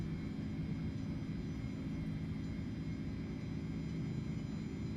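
Airbus A310 jet engines spool at takeoff thrust in the MSFS 2024 flight simulator, a steady, even roar with a low rumble and faint high whine, continuous and unchanging throughout.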